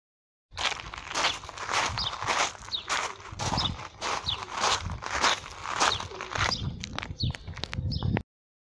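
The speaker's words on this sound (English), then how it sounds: "Hopefully that might have made you think of people walking along a path" Footsteps of people walking along a path crunch in an even, regular stride, close and clear, with a slightly busier shuffle toward the end and no talking.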